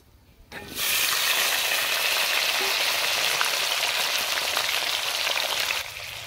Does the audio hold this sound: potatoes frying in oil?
yes